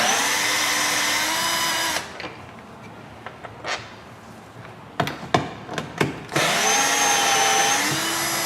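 A power tool removes 8 mm bolts from a Ford F-series door panel during a window regulator motor job: a loud steady drill whine for two seconds, quieter handling clatter and clicks, then another sustained whine.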